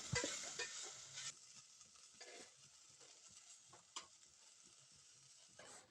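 Chopped okra stirred in a little oil in a pan for a stir-fry, a soft sizzle with a brief louder burst at the start and occasional utensil scrapes, faint and close without voices.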